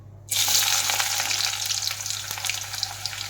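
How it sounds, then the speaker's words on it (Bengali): Bay leaves drop into hot oil with a sudden loud sizzle, then a steady, close crackling fry over a low constant hum, with no voices. "তার মধ্যে তেলের মধ্যে তেজপাতা দিয়ে দিলাম"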